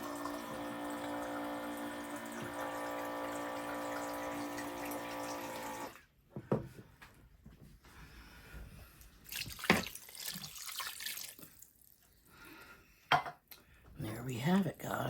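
Drinking water pours steadily from a container in an RV kitchen, a continuous close stream for several seconds, followed by clattering kitchen handling and light splashes.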